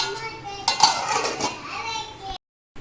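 A lid goes onto a pot of galka (sponge gourd) curry cooking in oil, making a few close metallic clanks and a rattling clatter, followed by a moment of silence.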